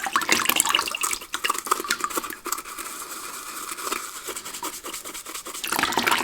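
A rubber respirator mask is scrubbed with Marseille soap and water, giving steady close wet brushing and rubbing with splashy texture and no talk.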